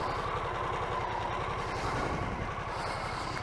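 A Harley-Davidson Sportster S with the 1250 V-twin idles close by, a steady, loping low rumble with an even pulsing beat and no talk over it.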